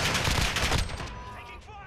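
Gunfire in Call of Duty Modern Warfare during a 2v2 Alpha round: a short, dense burst of rapid shots that quickly fades into a faint tail, loud and close.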